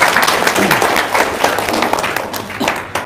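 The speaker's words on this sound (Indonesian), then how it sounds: "Tepuk tangan dulu dong." Audience clapping at an indoor gathering, loud and close, a dense patter of many hands that tapers slightly near the end, with faint voices mixed in.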